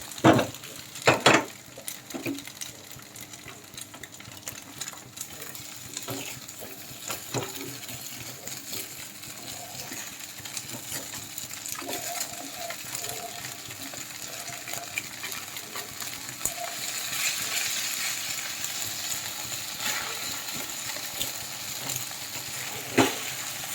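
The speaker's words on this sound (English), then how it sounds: "So first get the edges loose so that when you flip it over, it doesn't stick to the pan. And then fry it on the other side." Pan-fried chicken noodles sizzle steadily in a pan, a close, continuous crackle with a few scraping and clinking knocks early on and a brighter swell of frying later, no one speaking.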